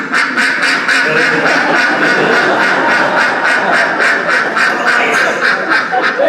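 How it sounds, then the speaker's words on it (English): A dense flock of ducks quacks continuously and loudly close by, with rapid overlapping calls filling the whole stretch on a trip through New Zealand. "Those ducks are off to safety, Doc, Doc."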